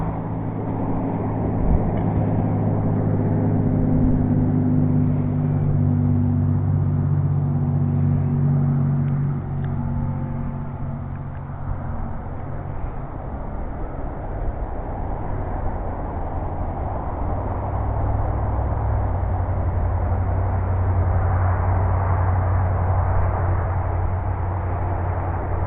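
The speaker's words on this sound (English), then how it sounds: "Let me get on the trolling motor." A boat's trolling motor runs steadily as a constant low rumbling drone with a muffled hum, loud and close throughout, with no speech.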